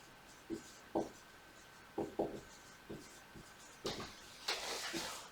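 A pen or marker writes a math statement by hand, giving quiet, irregular taps and short scratchy strokes at close range, ending in a longer stretch of rubbing and scribbling.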